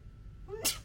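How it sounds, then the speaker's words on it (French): A single short sneeze near the end, preceded by a quick intake of breath, fairly close and moderately loud over a quiet room. "Qui éternue autant que moi?"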